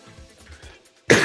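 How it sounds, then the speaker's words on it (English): A single sharp, loud cough bursts out near the end, following a stretch of quiet, low background murmur. "I'm over here coughing"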